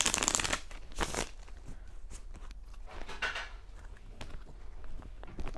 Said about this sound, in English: Why am I shuffling this deck?